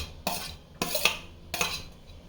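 Chopped onion, capsicum and carrot are mixed together in a pan, giving three distinct bursts of spoon-on-pan scraping and clinking with short pauses between them, close by and moderately loud, with no talking.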